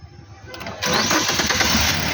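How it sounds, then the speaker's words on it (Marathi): Car engine cranking and catching during a battery test with a diagnostic machine, a brief starter whir rising into a loud, steady running engine close by. "इंजिन स्टार्ट कर."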